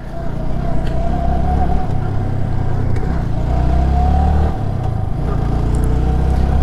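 A motorbike rides through dense, rain-like fog on an island road, its engine droning loud and close with shifting revs, mixed with heavy wind rush across the whole stretch.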